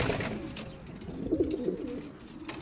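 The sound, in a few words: pigeons cooing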